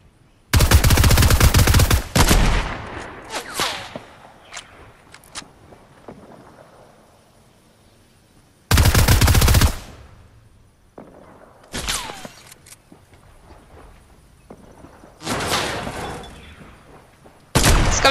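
Repeated bursts of Fortnite gunfire, including sniper shots, come in loud separate volleys with quieter stretches of game noise between them.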